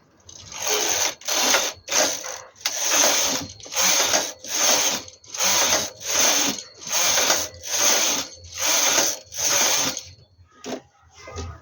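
A knitting machine carriage is pushed back and forth across the needle bed knitting rows of a baby sweater, making about ten loud, even whirring, ratcheting passes in a steady rhythm, close up and without talk.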